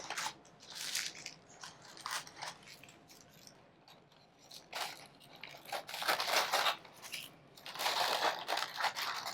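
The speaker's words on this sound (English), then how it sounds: "I'm just going to cut off some of this excess." Parchment paper is crinkled and trimmed from a loaf pan for pumpkin bread, with bursts of crisp crunching and rustling that rise and fall up close and grow louder toward the end, with no talking.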